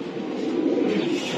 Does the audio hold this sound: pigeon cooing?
yes